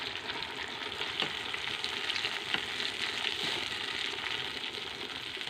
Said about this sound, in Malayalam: ബാക്കിയുള്ളതും കൂടി നമുക്ക് ഫ്രൈ ചെയ്തെടുക്കാം കൂടി എണ്ണയിലിട്ട് അതും കൂടി ഫ്രൈ ചെയ്തെടുക്കാം